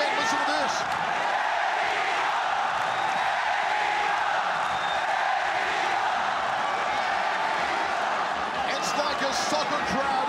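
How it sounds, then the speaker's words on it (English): Arena crowd at a ONE Championship mixed martial arts event in loud, sustained chanting and roaring that fills the space continuously, with cheers rising throughout. "Here come the chants again."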